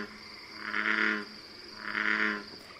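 Two deep, drawn-out bullfrog calls repeat about a second apart, resonant and droning, with a steady insect-like hum in the background.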